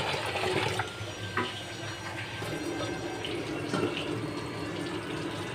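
Tap water runs steadily into a kitchen sink as hands are rinsed, a continuous splashing wash with small clatters, fairly close, while dried fish is being washed; no talk.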